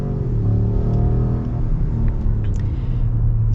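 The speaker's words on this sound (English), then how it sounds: "let's actually get our acceleration here" A 2021 Ram 1500 Limited pickup truck accelerates with a deep, loud rumbling engine note that climbs smoothly in pitch, heard close up from inside with no talking.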